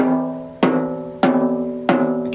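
Snare drum head tapped at a lower-pitched tension rod during tuning: three sharp, loud strikes about 0.6 seconds apart, each ringing with a sustained pitched overtone that decays between hits.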